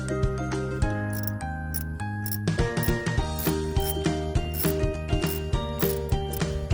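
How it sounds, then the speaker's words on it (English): A ratchet wrench loosening the 5/16 positive and negative battery terminal bolts on a 2014 Chevy Express, producing a rapid series of close, crisp clicks with no talk. "we're going to take off the positive and the negative terminals. They are a 5/16."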